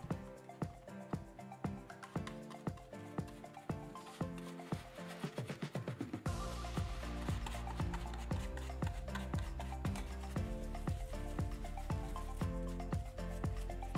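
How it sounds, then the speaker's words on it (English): Joint compound is rubbed and dabbed onto a 3D-printed PLA model in steady, rhythmic wet strokes, close and even, with a denser, louder stretch in the second half and no talking. "I used joint compound to thinly coat the model."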